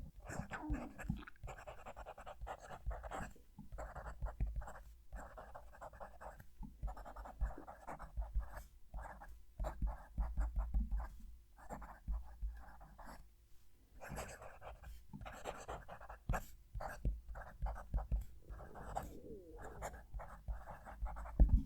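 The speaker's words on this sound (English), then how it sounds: "Hopefully the mic really did show the way that sounds when I'm writing." A medium-nib fountain pen scratches steadily across paper in close, noisy strokes, with short pauses between words and a louder burst at the end.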